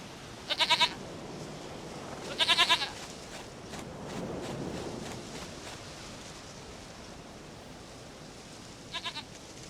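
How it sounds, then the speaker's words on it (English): Goat bleating in The Witcher 3: two close, quavering bleats early on, then a softer, shorter one near the end, set against quiet rustling outdoor ambience. "Goat of mine, dearest, sweetest goat."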